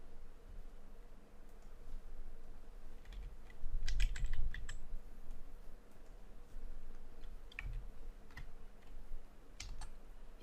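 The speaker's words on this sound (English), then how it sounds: "Now if you type the text also," Steady typing on a computer keyboard, close and clear, with irregular clusters of light key clicks and a brief louder burst of keystrokes partway through, over a faint background hum.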